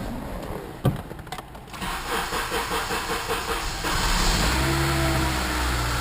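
A project car engine fitted with a new muffler and running with its airbox removed gives a steady, fairly loud rumbling drone with uneven roughness after a brief cranking start.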